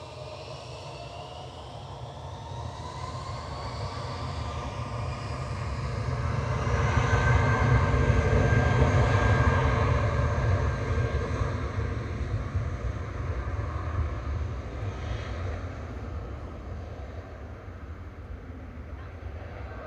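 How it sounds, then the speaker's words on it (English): A British Airways Shuttle jet departs Manchester Airport for Heathrow, a steady distant engine roar that swells and fades, with a voice talking over it. "Shuttle 3 Romeo departing back to Heathrow there, GEUYD with flight 1389 for British Airways"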